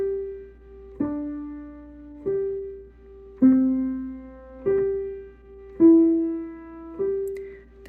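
Solo piano left-hand part of a song from its opening, played softly and unhurriedly: seven or so mellow low notes struck at steady intervals, each sustaining and decaying cleanly, with no voices over it.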